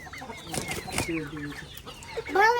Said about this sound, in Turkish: Bizim kuyruksuz tavuğumuz var biliyor musun?